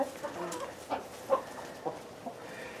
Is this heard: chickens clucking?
yes